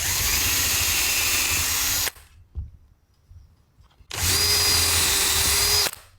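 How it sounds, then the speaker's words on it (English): A power drill runs in two loud, steady bursts separated by a couple of seconds of near silence with a small clunk, drilling pilot holes in a camper van ceiling. "I'll then drill a pilot hole"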